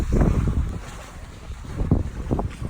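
Sailboat moving at about four knots off the coast, wind buffeting the microphone with a rumbling, gusty roar and the sloshing of water along the hull, steady and close with no talking.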